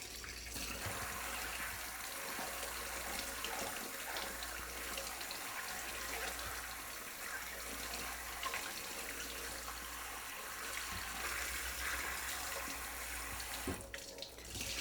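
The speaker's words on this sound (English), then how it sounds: "it's time for a rinse." Tap water runs steadily over a dive mask being rinsed under a faucet, a continuous close splashing hiss that holds for the whole stretch with only slight shifts as the mask moves through the stream.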